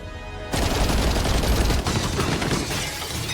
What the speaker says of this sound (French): une longue fusillade éclate